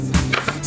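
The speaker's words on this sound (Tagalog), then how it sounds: "Magdidikdik ng ating mga sangkap" Ginger and garlic are pounded for spicy crab, giving a few dull, close thuds against a steady hum of background noise.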